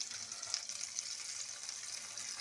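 Boorelu, festival dumplings of batter-coated filling, frying in hot oil: a steady, fairly loud hiss and sizzle that runs unbroken throughout with no voices.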